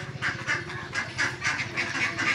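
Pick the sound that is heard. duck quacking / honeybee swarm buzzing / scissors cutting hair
duck quacking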